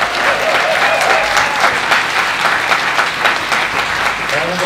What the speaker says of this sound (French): Je vais vous applaudir